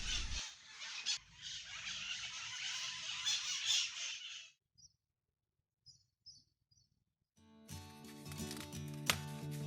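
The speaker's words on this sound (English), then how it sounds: "a flock of wild parrots who stopped for a noisy afternoon in our garden" Loud, dense chorus of harsh squawks and chatter from a flock of wild parrots in a garden for several seconds, then a near-silent gap with a few scattered calls before other noise resumes.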